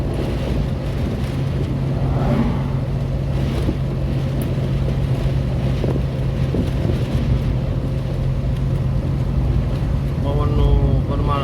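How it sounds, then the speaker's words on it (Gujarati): Strong, hot summer wind blows hard across the microphone on a village road, making a continuous low, rumbling roar that buffets steadily throughout. "અત્યારે ગરમીની અંદર જુઓ તો લૂ આવે છે પણ પવન ખૂબ છે."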